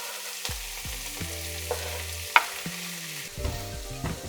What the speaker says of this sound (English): let your tomatoes cook down a little bit